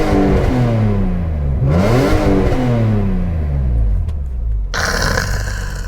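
A naturally aspirated, high-revving BMW E46 M3 with manual transmission climbs and falls through repeated sharp revs, loud and close, with a crisp rasp ending in a burst of throttle.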